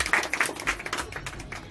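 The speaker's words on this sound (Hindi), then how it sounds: "तो इसलिए मंजू के लिए आज" An audience claps for Manju at a women's gathering, a short burst of scattered, fairly light hand claps that tapers off within a couple of seconds.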